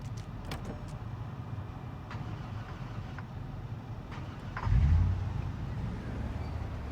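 A hot-wired car engine in the zombie survival game Project Zomboid, heard after a few faint clicks: a sudden low rumble swells, then settles into a steady, moderately loud idle.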